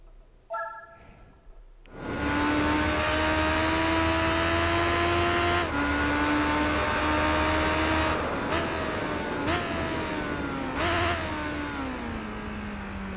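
Yamaha XJR 1300 motorcycle engine in the racing game Tourist Trophy, revving up hard after a short start, then holding a loud steady drone with several quick downshift blips and pitch drops.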